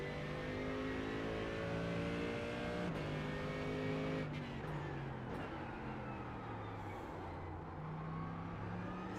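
A GT3 race car in the iRacing sim at Twin Ring Motegi revs loudly through the gears, with rising engine notes dropping at each shift and easing off through a corner, continuous and close throughout.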